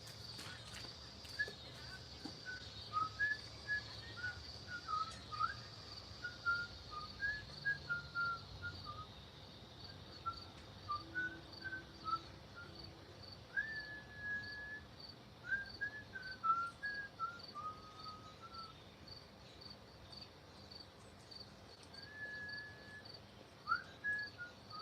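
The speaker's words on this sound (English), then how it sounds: "can just listen to my whistling." A person whistles a meandering tune in short, scattered phrases, fairly quiet, over a constant high insect-like drone and faint background noise.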